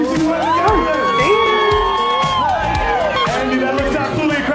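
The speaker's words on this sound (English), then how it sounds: "Guys, give her another big round of applause." A loud crowd cheers and whoops at a charity event, with shouts and excited voices layered over a continuous roar of noise throughout.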